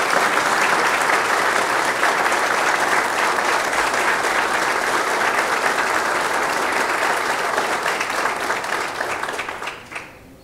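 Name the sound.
audience applause for new ADESG members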